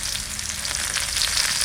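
Dry red chillies, black cumin and onion fry in hot oil, a dense, even sizzle holding steady and close for a brief moment.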